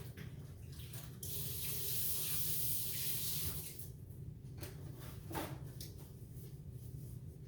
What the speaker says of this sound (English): Let me get my hands washed.